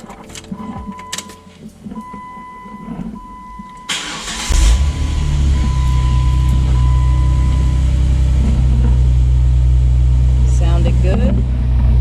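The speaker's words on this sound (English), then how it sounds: "start it up a couple of times, make sure it sounds okay, not hesitating" A 2011 Jeep Wrangler JK engine cranks and fires up around four seconds in, then settles into a loud, steady idle that runs to the end, with faint clicks and ambient noise before the start.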